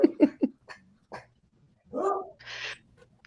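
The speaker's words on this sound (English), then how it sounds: "now my dogs are barking." Dogs bark indoors: a quick burst of three sharp barks, then isolated single barks and a longer yelping whine near the end, fairly close and with no talking.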